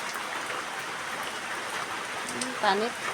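Rain falls steadily outside beside a pond, a soft even hiss of drops continuing throughout, with a person speaking briefly near the end.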